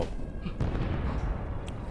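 A deep, rumbling boom with a noisy crackling tail, loud and close, like a cartoon explosion.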